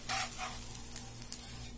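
Wheat dosa cooks in a pan with a soft, faint sizzle and a few light scraping touches over a low background hum, with no voices.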